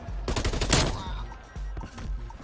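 Rapid automatic fire from an XM4 rifle in Black Ops Cold War, one dense burst of close, loud shots followed by a few scattered single cracks.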